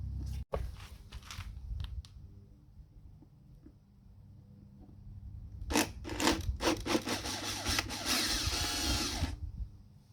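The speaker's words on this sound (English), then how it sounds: "in the very beginning I will use really small drill because I want to be exactly in the center of the holes" A small power drill with a small bit whirs intermittently up close, drilling holes to mount Lenco trim tabs on a Suvi boat, with short bursts and a longer grinding stretch near the end, amid light mechanical clicks.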